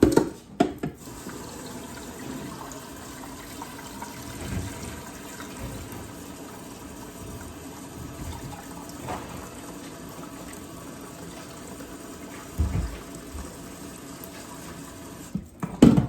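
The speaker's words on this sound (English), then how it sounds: "I'm gonna fill this with water" A pot fills with tap water for pork and chicken bone broth bound for a crock pot, a steady continuous rushing stream close by for the whole stretch, with a few clunks at the start and end and no talking.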